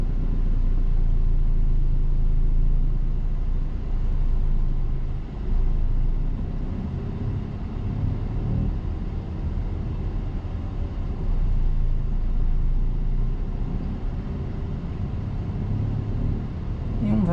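A car on a driving lesson pulls away gently, a steady low engine rumble and road noise from inside the cabin holding fairly loud and even throughout.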